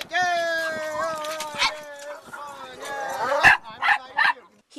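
Dogs on a dog walk bark, yip and whine close by in a lively overlapping chorus, with howl-like tones rising and falling and short sharp barks near the end.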